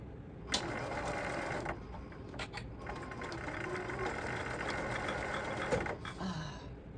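A home sewing machine stitches a line on a fabric sling pouch, running in a continuous mechanical whir with brief stops and restarts, close by.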